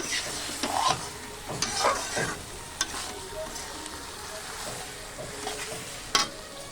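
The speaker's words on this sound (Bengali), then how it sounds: "এই যে করছি ইঁচড়, নিরামিষ ইঁচড় রান্না হচ্ছে" Vegetarian jackfruit curry cooks in a pan, a continuous sizzle with irregular close scrapes and knocks of a spoon stirring, and no talking.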